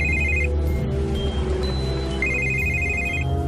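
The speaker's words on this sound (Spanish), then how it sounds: "sonó el teléfono" A telephone rings in two bursts of a bright, rapid electronic trill, separated by a pause and heard clearly over a low background bed.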